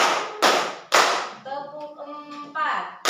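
A group claps hands together in a counted ice-breaker game, with loud, sharp unison claps in a few distinct bursts near the listener, and a voice speaks between the claps.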